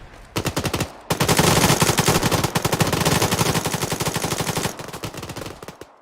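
Sustained automatic gunfire in the military game Arma during a large team battle, with loud, close bursts of rapid shots, a long unbroken stretch of fire, then more bursts before it cuts off.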